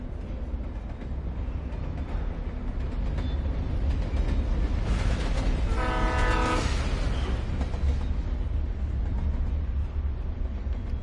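Train rolling past in Alan Wake Remastered, a steady loud rumble building to a harmonic horn blast near the middle, then fading back into continuous rail noise; no talking.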